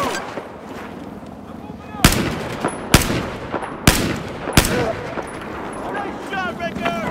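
Rifle shots in Battlefield 4 crack loud and close, four sharp reports spaced about a second apart, with game chatter and battle noise in between.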